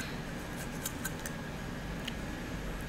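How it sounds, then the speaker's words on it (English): Soft, quick snips of small scissors cutting a pony doll's hair down to the scalp, a few crisp clicks spaced irregularly over a low steady background hiss. "I'm gonna switch over to some teeny tiny scissors and cut the hair all the way down to"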